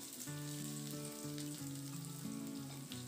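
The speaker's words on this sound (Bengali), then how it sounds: "আমি এখানে একটা পেঁয়াজ কুচি করে রেখেছি সেটা দিয়ে দিলাম।" Chopped onion hits hot oil tempered with nigella seeds, giving a steady, continuous sizzle that sits under tonal background music for the whole stretch.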